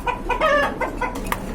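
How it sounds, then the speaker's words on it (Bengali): A pair of Danish pigeons, one blue with red markings, gives a short burst of close, repeated coos and throaty calls in quick succession, with no talking over them. "আরেক জোড়া ড্যানিশ কবুতর"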